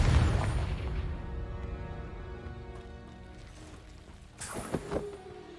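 A Confringo blasting curse from Hogwarts Legacy bursts with a sharp, loud boom at the start, then rumbles and fades into a long ringing tail, followed by a second crackling burst near the end.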